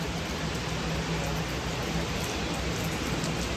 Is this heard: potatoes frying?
no